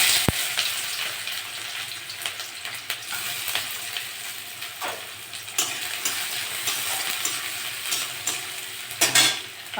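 Chopped onion sizzles steadily in hot mustard oil in a heated pan, a dense continuous crackle with occasional stirring scrapes and a brief louder burst near the end.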